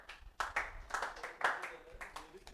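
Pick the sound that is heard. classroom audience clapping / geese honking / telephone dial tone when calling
classroom audience clapping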